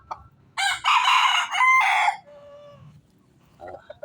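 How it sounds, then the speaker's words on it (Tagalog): A pure red junglefowl (labuyo) rooster crows loudly and close by in a long, strained call with a second burst, followed by quieter clucking and background rustling. "Ito yung purong labuyo."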